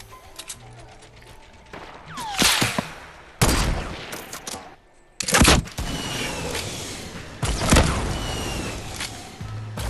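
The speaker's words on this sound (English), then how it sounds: "Where the fuck is this guy shooting us from?" Fortnite Battle Royale gunfire, several loud bursts and rapid volleys of shots, some close and sharp, spread across a noisy in-game background with scattered faint voices.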